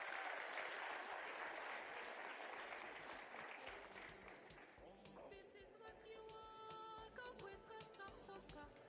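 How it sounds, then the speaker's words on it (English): Applause for a governor at a national skills competition closing ceremony, a large audience clapping loudly and steadily, then easing slightly as music comes in beneath it. "A round of applause for our governor."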